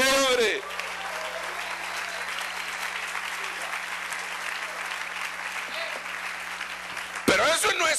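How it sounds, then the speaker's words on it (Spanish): A church congregation bursts into sustained applause, a dense, even wash of clapping that holds steady for several seconds, with a preacher's voice briefly at the start and end. "aplauso al rey, hombre"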